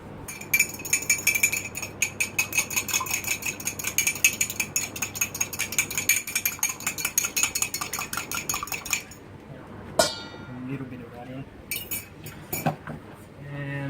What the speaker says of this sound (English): I'll mix that all together.